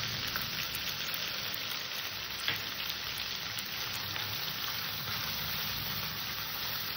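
Poppy seed paste with coriander and cumin sizzles and is stirred in a pan, a steady, gentle frying hiss with a soft scrape or two, close and continuous.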